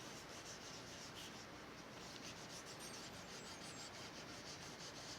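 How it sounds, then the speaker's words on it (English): Grain filler being rubbed back and forth across a mahogany Les Paul guitar body, a steady close-up scrubbing hiss that sounds continuous and even throughout. "you're going back and forth and rubbing it in across the body to get it to fit in all the pores"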